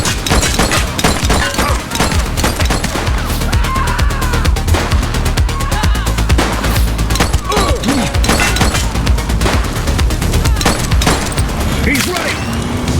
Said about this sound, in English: Look out, partner. Vehicle fire.